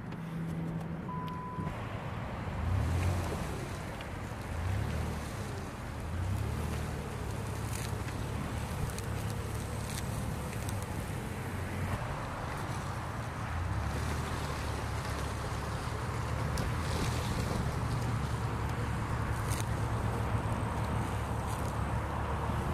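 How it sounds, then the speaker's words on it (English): A four-wheel drive vehicle in low range grinds its way out of mud on off-road traction boards, a steady low engine drone running throughout with a constant rumble and no talk. "now I'm gonna put it in a four-wheel drive to get out of this mess"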